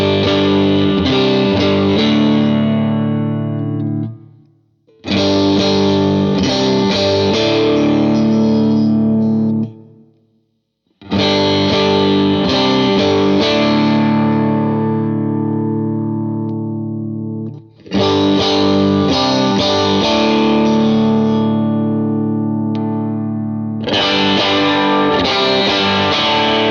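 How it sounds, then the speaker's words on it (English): Squier Classic Vibe Stratocaster electric guitar with upgrades, strummed in five loud, distorted bursts of chords as the pickup selector moves through its positions, each passage separated by brief silences. "Finally, a Strat single coil bridge pickup that I can get down with."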